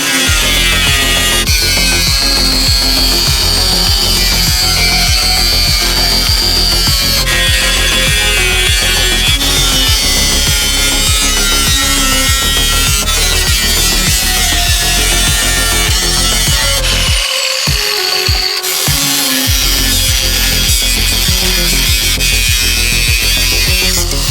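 A power tool's cutoff wheel slices through car body metal, a loud, continuous high-pitched grinding whine sustained almost without break, briefly dipping near the end before resuming at full intensity.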